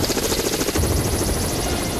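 A rescue helicopter on Seoraksan's snowy winter slopes thunders loud and close, its rotor beating in a steady, continuous chop with no pauses.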